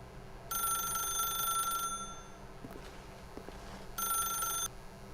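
A telephone bell rings in The Stanley Parable video game: two long bursts of bright electronic ringing separated by a pause, clear and alone over a quiet hum, with faint soft thumps in between.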